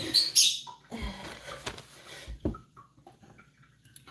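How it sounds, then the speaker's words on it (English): Caged lovebirds chirp and squeak indoors in short high bursts, with light rustling and scratching nearby, fading to quieter scattered peeps. "the inside birds that are making the noise over there are my lovebirds"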